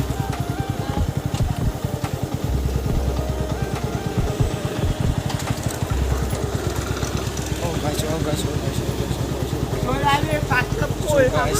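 Bajaj Pulsar NS125 motorcycle engine running steadily while the bike rolls without throttle, a continuous mid-pitched drone close by with people talking over it throughout.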